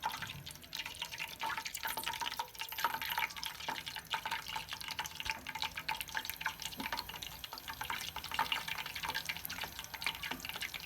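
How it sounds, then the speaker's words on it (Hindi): Spinach pakoras fry in hot oil, giving a continuous close bubbling sizzle dense with tiny crackles and spits that holds fairly steady throughout, with no voices over it. "अब हम इसको ऑयल में डाल देंगे।"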